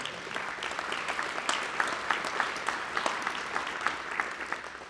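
Steady applause from a crowd, a dense patter of many hands clapping for several seconds, with a few sharper claps standing out and no talking.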